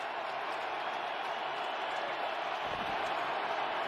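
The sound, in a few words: stadium crowd noise at NFL game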